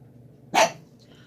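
A single sharp dog bark, close and loud, against a quiet low hum.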